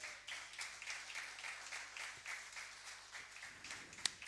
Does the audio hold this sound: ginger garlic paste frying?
no